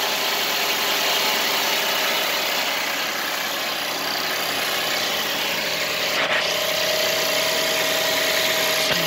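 2010 Buick LaCrosse 3.0 V6 idling after a cold start, a loud, steady, continuous engine drone heard close up throughout, with no speech over it.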